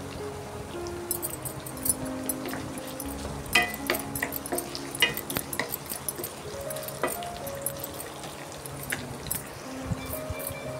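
Cashews and curry leaves frying in hot oil for upma, an ongoing crackle and sizzle with scattered metallic clinks and scraping of a spoon in the pan, fairly close.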